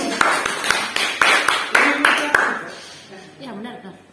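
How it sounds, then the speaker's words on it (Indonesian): Classroom applause for a student, a short run of about eight sharp, evenly spaced claps that fades out, with speech heard over it. "dan diberi aplaus untuk Dari."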